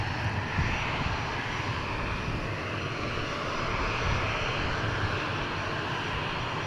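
An aircraft engine roars steadily at Dallas Love Field airport, a loud, continuous broadband rumble that holds level throughout, with no voices.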